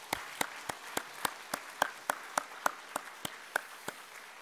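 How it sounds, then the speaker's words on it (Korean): A church congregation claps in encouragement for its choir, sparse distinct hand claps in a steady rhythm, fairly close and moderate in level, with no talking over them. "우리 찬양대를 위해서 격려의 박수 이렇게 부탁드립니다."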